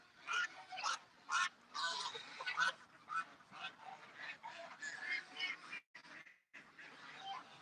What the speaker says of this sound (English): The ducks are all getting all worked up here.